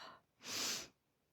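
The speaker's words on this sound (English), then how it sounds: "I probably sound awful sniffling on here, don't I?" A single breathy sniffle, close and quiet, rises and falls over about half a second in a calm room, after a faint breath just before it.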